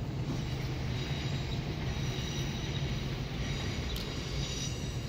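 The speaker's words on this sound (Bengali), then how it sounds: "ওই পাশে ট্রেন যাচ্ছে।" Train passing nearby in Riga, Latvia, on a foggy morning: a steady, continuous rumble of rolling wagons that holds at an even loudness throughout, with no voices.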